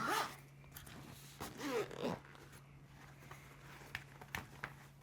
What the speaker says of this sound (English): We've got a YKK zip here, main YKK zip.